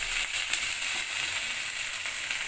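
Bengali spice paste for a rohu fish curry fries in oil with a steady, close sizzle and faint crackle, no voices over it.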